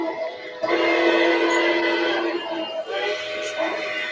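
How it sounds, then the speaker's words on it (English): A Reading T1 model train whistle sounds in a loud, sustained chordal blast, briefly pausing and resuming, close and alone. "I'm using the Reading T1 whistle."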